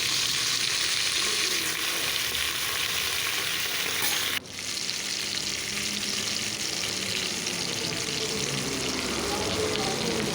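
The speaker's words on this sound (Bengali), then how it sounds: "এখন আমি মিষ্টি কুমড়া, আলু, গাজর, বেগুন একসঙ্গে ভেজে নিচ্ছি।" Pumpkin, potato, carrot and eggplant fry together in a pan with a loud, dense sizzle that briefly drops and surges back as the pieces are moved.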